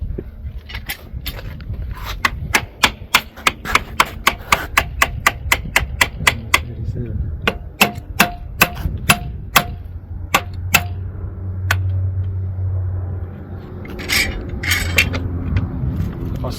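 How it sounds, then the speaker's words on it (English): Sharp hammer blows on timber during a one-tonner ute tray build with clamps in use, landing as a rapid run of close, loud knocks and then spacing out into separate strikes over low workshop rumble. "That's a pretty good hammer."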